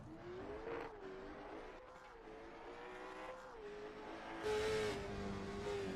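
A race car engine droning steadily as it circles the track at Slinger Speedway, moderately distant, its pitch wavering, then swelling louder with a rev near the end.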